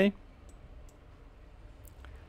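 A single mouse click on an OK button during computer design work, crisp and near, right after a voice trails off, followed by faint room hiss.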